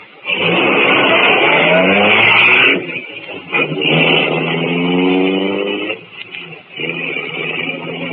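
A car engine sound effect from a 1948 radio drama revs steadily and loudly, with rising and falling harmonic pitch across several seconds, dropping briefly twice before resuming, with no talk over it.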